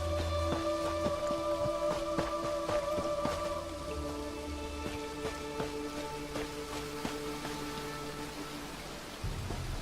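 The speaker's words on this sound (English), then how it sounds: "Oh, it's raining here." Rain falls in Elder Scrolls Online as a steady patter of drops with soft hiss, sprinkled with sharp ticking impacts, lasting throughout and easing slightly midway.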